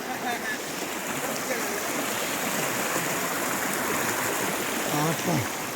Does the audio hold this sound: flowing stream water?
yes